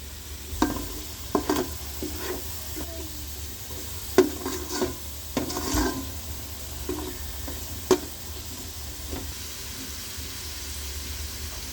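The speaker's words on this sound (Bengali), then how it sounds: "মশলা কষিয়ে নিতে হবে।" Spices stir-fry in a pan for a desi chicken curry, a low continuous sizzle punctuated by irregular scrapes and knocks of a spatula against the pan.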